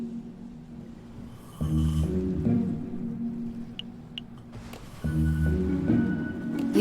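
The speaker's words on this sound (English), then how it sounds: "even his snore makes him sound like a know-it-all" A character in the Minecraft Story Mode video game snores in two long, deep, rattling inhales separated by quieter breathing, close and alone.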